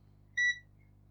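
A multimeter on continuity test, probing capacitors on a faulty RC car's circuit board, gives one short, clean electronic beep of about a quarter second against a faint low hum.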